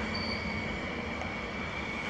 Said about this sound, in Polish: Tu są pociągi do Warszawy.